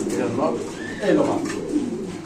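Pigeons at a Bangladeshi pigeon market, soft low cooing heard a few times close by, mixed in with people talking.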